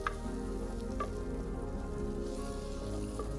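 Ground tomato goes into hot frying masala for a vada curry and sizzles steadily, a continuous crackling hiss with a few small spits and pops throughout.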